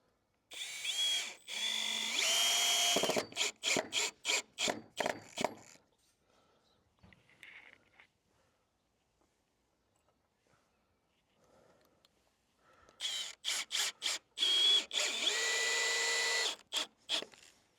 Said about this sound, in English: Fire some screws in.